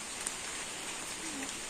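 Rain falls in a village, a soft, even patter and hiss of drops on surfaces, faint and steady throughout the short stretch.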